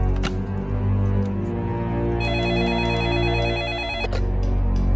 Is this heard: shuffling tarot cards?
no